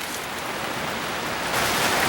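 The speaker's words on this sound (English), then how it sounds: "Alright, it's still raining." Steady rain falls outside a tent while camping in Lincoln National Forest, a dense, even hiss that swells slightly louder toward the end, with no voices.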